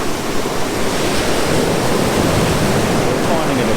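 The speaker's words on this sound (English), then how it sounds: "Just going to wait again until I get a wave coming up under the trees here and then fire a shot." Ocean waves wash steadily onto a rocky coast beneath trees, a loud continuous roar of surf and white water close by.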